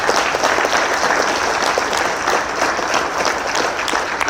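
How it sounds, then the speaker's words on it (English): Round of applause for the organizers at a Hawaiʻi wildfire summit: a large audience claps loudly and evenly throughout, dense and unbroken. "if you could join me in giving them a round of applause"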